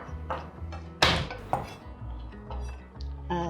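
Garlic being smashed on a kitchen board before dicing, with a sharp loud knock near the one-second mark, a second thump soon after, and lighter clinks of utensils and dishes around it.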